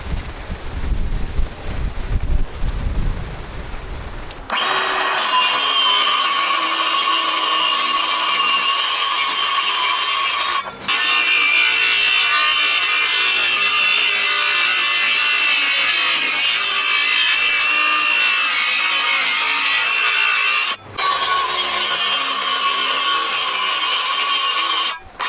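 Wood pieces for a campervan cabinet being cut with a saw during a DIY van build, a loud, steady rasping roar running almost continuously after a quiet start, broken by two brief pauses, close to the microphone with no talking.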